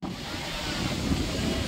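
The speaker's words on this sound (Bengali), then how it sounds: "ঢেউগুলো দেখুন শুধু।" Sea surf washes steadily onto the beach at the morning fish market at Swargadwar, a low continuous rush mixed with wind noise lasting under two seconds.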